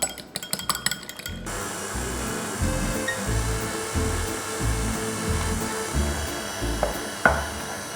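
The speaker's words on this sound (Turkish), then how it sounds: "Şimdi yumurtaları tek tek kırıp ekleyeceğim. Böyle bir çırpacağım." Eggs beaten into choux dough for profiteroles: a quick burst of rapid clinking opens, then a low, steady mechanical whirring churns on close by without speech.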